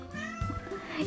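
A cat meows once up close, a short drawn-out call rising over quiet room background.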